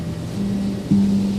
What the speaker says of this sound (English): The sea was so wild,